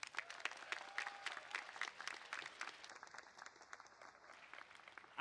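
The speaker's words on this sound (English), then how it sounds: "Give them a round of applause too," Graduation commencement crowd at a College of Engineering ceremony in packed stands claps faintly and steadily, distant applause with a brief whistle-like tone partway through.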